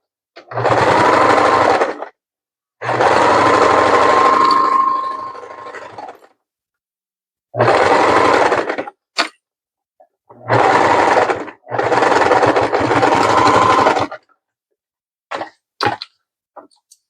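A sewing machine stitching a basting line onto fabric for a crossbody bag, running in several loud bursts of steady whirring a few seconds each, separated by short pauses and a few brief clicks.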